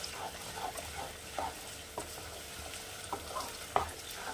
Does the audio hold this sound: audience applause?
no